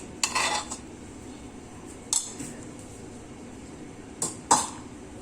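Utensils clatter in a pot as boiled mash dal is added to Hyderabadi daleem, with a few separate scraping, clinking strikes spaced across the stretch, close and fairly quiet.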